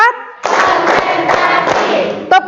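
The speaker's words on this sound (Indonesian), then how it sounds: "Kita mulai dengan tepuk 1 sampai 5 ya." A biology class in Indonesia claps together in a counted pattern: several sharp, loud unison claps over a roomy wash of hand noise, with a voice speaking briefly just before and just after.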